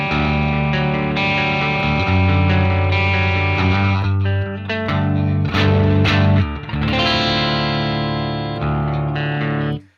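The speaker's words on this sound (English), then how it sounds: "That's a Fender Blackface Twin with the Fender cab and SM57, nothing else." A clean electric guitar through a Fender Blackface Twin tube amp and Fender cab, miked with an SM57, plays sustained chords and notes with slight breakup, loud and close, no voices.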